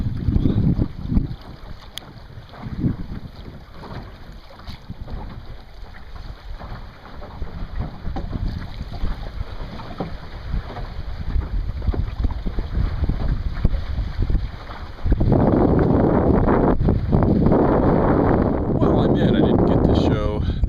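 An M15 sailboat runs on a beam reach in strong wind, with rushing wind buffeting the microphone and water washing along the hull, growing louder and rougher near the end.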